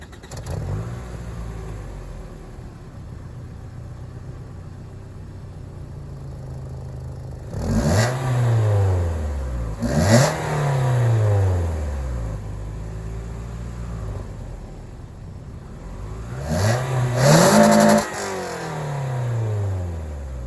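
A 2004 Toyota Camry fitted with an Evil Energy muffler idles with a low, raspy, airy drone, then revs several times in rising and falling swells, loud and close, with no talk.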